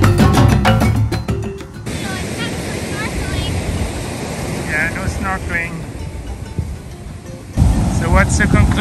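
Ocean waves and wind on an island shore: a continuous broadband rush of surf and gusting wind. Voices are faintly audible beneath it, and the roar swells louder near the end.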